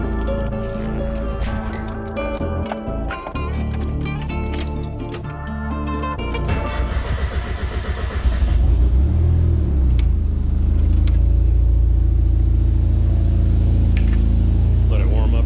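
Car engine turning over and catching, then settling into a loud, steady low idle as it warms up in a garage while bodywork with cut fenders is underway; a voice is heard early on before the rumble takes over.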